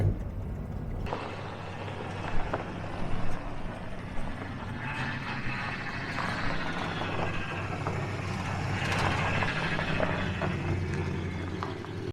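A 1970 Oldsmobile barn find drives along and shifts from first to second, with a steady engine and road rumble throughout and a few brief knocks over it. No one speaks.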